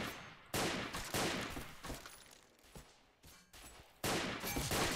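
Video game gunfire in S.T.A.L.K.E.R. Call of Pripyat with the MISERY mod, several loud sharp shots in an irregular burst, each followed by a decaying echo and quieter pauses between.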